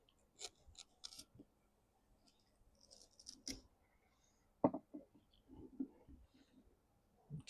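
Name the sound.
Kershaw Iridium knife push cut through hard material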